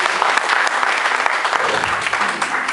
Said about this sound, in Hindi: आप लोग उनसे जोरदार तालियों से आप उनका स्वागत करिए